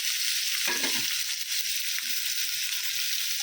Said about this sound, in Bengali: কোয়া রসুন দিয়েছি আর পেঁয়াজ দিয়ে দিয়েছি